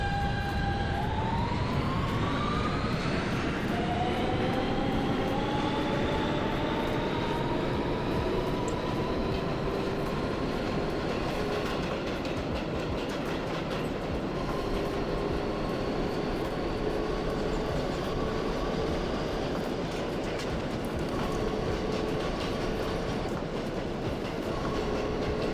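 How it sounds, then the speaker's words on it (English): A Queens-bound G subway train in the OpenBVE train simulator runs steadily, with a loud continuous rail rumble, rising motor whine tones and faint rhythmic clatter throughout, with no talk. "This is a Queens-bound G train."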